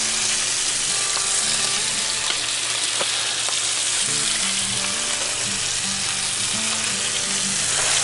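Food sizzles and fries steadily in a new Blacklock cast-iron skillet on its first cook, a dense continuous crackle with low stirring sounds underneath and no talking.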